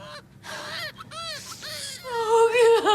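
A baby cries in short, rising wails that grow louder and more strained toward the end, close and alone with no talk.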